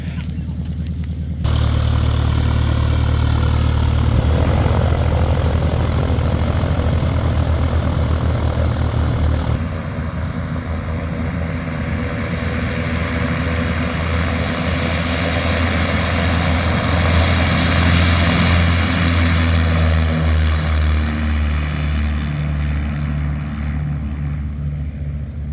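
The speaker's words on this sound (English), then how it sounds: "Looks like the Defiant's about to start up." A Rutan Defiant canard aircraft starts its engine and propeller at a fly-in, first a brief rough crank, then a loud, steady propeller drone that runs continuously up close for the rest of the time.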